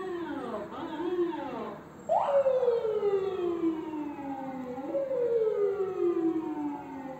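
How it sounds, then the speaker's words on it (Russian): An ambulance siren passes outside, its loud wail sweeping up and down in long repeated glides with a brief break before it resumes. "как часто вы в моих обзорах слышите эти мигалки? И это в основном скорые"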